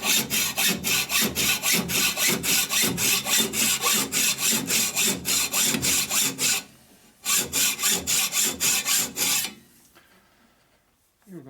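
A hand file rasps back and forth across metal while a cylinder stud repair tool is being made, each stroke loud and close in a steady rhythm, pausing once briefly and then fading out near the end.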